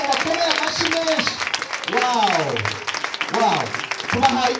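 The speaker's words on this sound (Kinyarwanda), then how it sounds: "Abashyitsi badusuye bakomera amashyi menshi." Applause for visiting guests at a church gathering: a steady wash of clapping runs throughout, with voices calling out and whooping over it.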